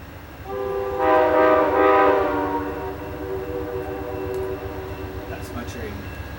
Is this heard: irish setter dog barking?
no